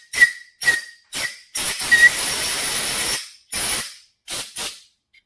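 Compressed air blows out a hole in a Polaris snowmobile clutch: three short, sharp hissing blasts, then a longer sustained burst and a few more quick puffs, all loud and close.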